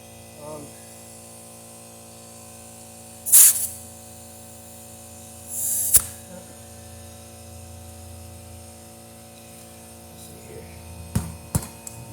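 Compressed air bursts into a lawn tractor's front tire in two short, loud hissing blasts a few seconds apart over a steady electrical hum, with small clicks and taps near the end.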